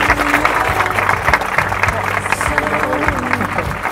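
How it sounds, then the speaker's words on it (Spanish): Guests at a civil wedding ceremony applaud the groom, a dense crowd of clapping running steadily for nearly four seconds, with scattered cheers mixed in. "Un aplauso para ti."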